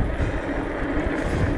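Wind on the English south coast buffets the microphone with a continuous, loud, rumbling roar that runs the full brief moment without a break.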